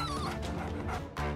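A dog yips and whimpers in short, high cries, close and fairly loud, with a brief pause before one final yelp.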